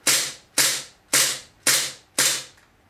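Five sharp, evenly spaced shots ring out from an HFC HG-175 P226 metal gas blowback airsoft pistol, each a crisp crack with a short decay, close and loud, with no voices.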